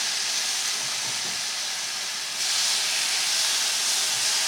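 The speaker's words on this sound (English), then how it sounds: "You see my pan sizzling" Skirt steak sizzles in a hot frying pan, a steady bright hiss that swells louder partway through, close and alone with no talk.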